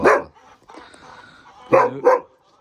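A taigan hound barks at livestock in a rural village, giving a loud near bark, then a quieter stretch of low whimpering, then two more sharp barks close together.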